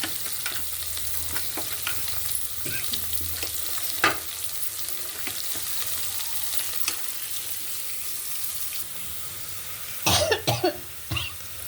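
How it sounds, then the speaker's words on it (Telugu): Red onions dropped into a hot pan of fried chillies and garlic for a dal tempering, a steady close frying hiss with scattered stirring clatters and a sharper burst of sizzle and scraping near the end. "ఇప్పుడు వచ్చేమో ఎర్రుల్లిపాయలు వేస్తున్నాను."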